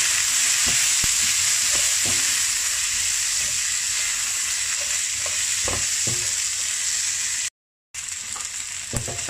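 Pork belly sizzles loudly in a pan after cooking wine is added, a steady bright hiss broken by repeated scraping stirs and clacks of a spatula, with a brief dropout near the end.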